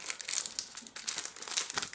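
A Yu-Gi-Oh Duelist Pack Kaiba booster wrapper is torn open, giving a close, sharp burst of crinkling and tearing foil in several quick pulls.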